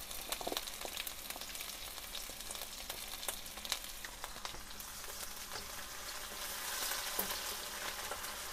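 Chopped ginger, garlic and green chillies frying in a pan give a steady, close sizzle with scattered crackling pops, slightly louder toward the end, with no voices.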